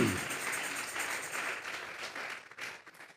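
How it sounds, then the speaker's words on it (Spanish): A church congregation claps their hands together in dense, sustained applause that fills the space, fading slightly toward the end with a few scattered claps. "Dele fuerte esas palmas al Señor de la gloria."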